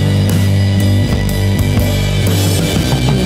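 A loud, dense track plays as a mastering reference, with a thick low end and a rhythmic pulse running through the short excerpt.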